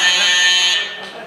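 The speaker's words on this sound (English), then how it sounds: "that's the buzzer signaling that your time to speak is up" A loud, steady electronic buzzer sounds at a city council hall event to signal that a public speaker's time is up, holding for about a second before cutting off.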